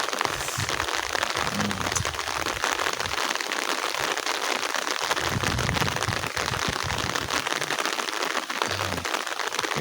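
Steady rain pours over a Sundanese village in West Java on a foggy morning, a dense, even patter and hiss throughout with no voices.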